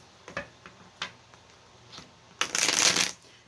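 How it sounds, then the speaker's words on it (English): A few soft tarot card taps and flicks, then a quick burst of riffle shuffling near the end, close and crisp. "I'm going to shuffle just one more time."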